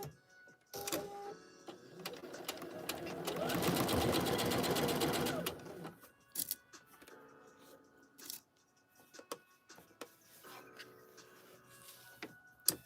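Home sewing machine stitching a McCall's pattern garment, a loud, fast mechanical whirring run of about four seconds, followed by quieter clicks, handling noises and brief speech.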